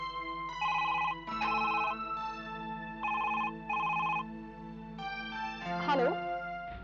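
A telephone rings in repeated short bursts over quiet music, followed by a brief voice near the end.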